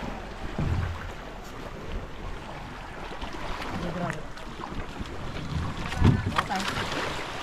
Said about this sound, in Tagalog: Sasakay tayo sa kanilang bangka.